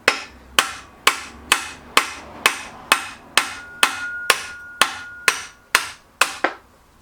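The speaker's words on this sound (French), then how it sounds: "il va me falloir marteau et burin" Hammer blows drive a chisel against the clutch mechanism of a Peugeot with a TU5JP4 engine: about thirteen sharp, ringing metallic strikes at a steady, even rhythm, close and loud, each with a short decaying ring.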